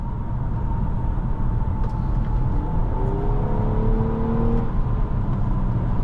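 A 2013 Nissan Maxima 3.5 SV with a CVT and about 150,000 miles, heard from inside while driving as a steady road and engine rumble with smooth rising whines as it accelerates.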